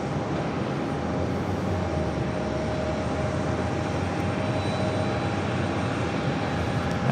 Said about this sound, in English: Next arrival on 4 right to Brussels Airlines